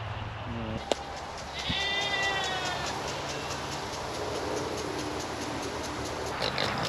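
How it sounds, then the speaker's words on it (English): Goats bleat on an Alaska farm with pigs and other animals around, several wavering bleats rising at different moments over steady outdoor background noise, moderately close, with faint voices in the mix. "here comes all the goats and the other animals and the pigs"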